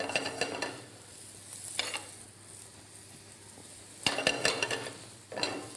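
Food fries crisply in a pan that is shaken now and then, steady sizzling broken by a few sharp rattling bursts of the pan and its contents.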